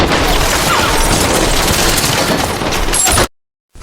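Intense gunfire fills a film trailer about a Miami police story, a loud, dense barrage of shots and booms running continuously, then cutting abruptly to silence near the end.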